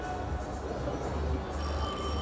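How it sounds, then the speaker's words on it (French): Prop telephone from a Ghostbusters exhibit at a comic convention, ringing steadily through the clip amid crowded hall noise and background chatter. "le téléphone sonne à intervalles réguliers"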